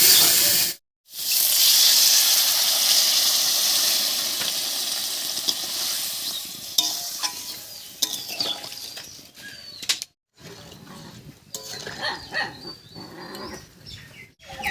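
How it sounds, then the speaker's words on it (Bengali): Water poured into a hot pan for fish curry sets off a loud, close hissing sizzle that gradually fades and breaks into scattered crackles and pops. "এবারে জল দেবো"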